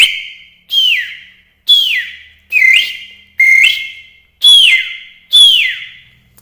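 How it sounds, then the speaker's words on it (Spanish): Seven short chin-whistle notes, each sliding downward with a breathy attack, repeated in a steady rhythm, loud and close with nothing else heard. "ahora vamos al el silbato de mentón"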